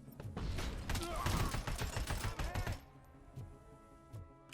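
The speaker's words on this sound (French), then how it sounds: "Fusil d'assaut?" Assault rifle gunfire in the Robocop Rogue City video game, a dense burst of rapid, loud shots and mechanical clatter lasting almost three seconds, then fading to quieter background thumps.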